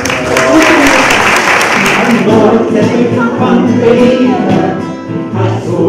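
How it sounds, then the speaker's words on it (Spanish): An audience applauds a friend at a book launch, steady dense clapping held at full strength throughout, with a voice speaking over it partway through. "un aplauso nomás para mi amiga"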